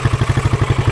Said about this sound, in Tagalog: papainggan nyo lang yung kumakalansing.